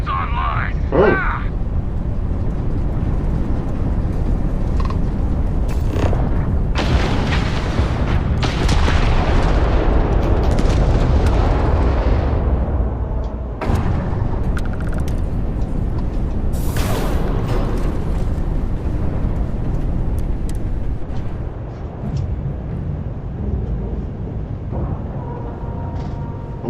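Spaceship weapons fire and explosions during a space battle in the video game Starfield, a dense, continuous roar of loud booms and blasts with sharp bursts throughout, backed by game music and effects.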